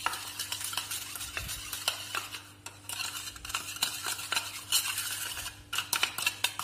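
A spoon scrapes and clicks steadily against a bowl while a homemade teeth-whitening paste is mixed, producing repeated close, fairly quiet stirring strokes with no voices.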